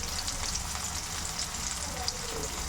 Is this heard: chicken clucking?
no